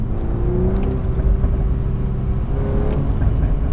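A Volkswagen Golf 8 R engine revving up and holding a throaty, rumbling drone, close and loud, with no voices over it.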